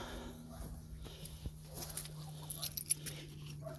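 Keys jingle faintly in short metallic bursts near a 1965 Ford F100 pickup in a garage, with a low steady hum underneath and occasional small clicks.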